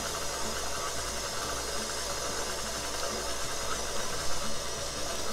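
A stand mixer kneads bread dough at medium speed, producing a steady, unbroken motor whir with a faint rattle that holds at an even loudness throughout.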